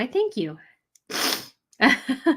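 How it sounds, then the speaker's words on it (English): One sharp, breathy sneeze bursts out in the middle of the clip, set between short bits of nearby speech before and after it. "Yes, I do get a little bit of the sneezes sometimes."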